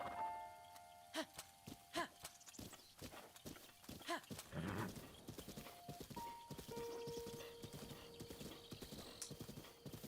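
Horse hooves clip-clop in the video game The Legend of Zelda: Breath of the Wild, a brisk run of sharp, evenly spaced hoof strikes, close and clear, with faint game tones and a neigh in the background.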